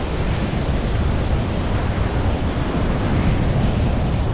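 Sea waves and wind on a shore make a continuous, fairly loud rushing wash of surf. It stays steady throughout, with no voices.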